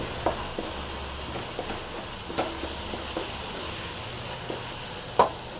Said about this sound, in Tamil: அதையும் சேர்த்து நல்லா அதை ஃப்ரை பண்ணிக்கலாம்